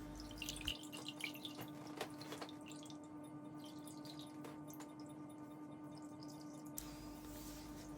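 Water drips and trickles from a paper-making frame lifted out of a vat of recycled paper pulp, a few sharp early drops giving way to a faint, steady patter.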